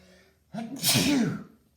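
A single sharp sneeze, preceded by a brief inhale, close and fairly loud in a quiet room.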